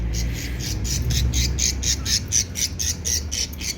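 Birds squawk loudly and repeatedly at close range as their chicks are put into a cage, a harsh rhythmic chorus of calls with no talking.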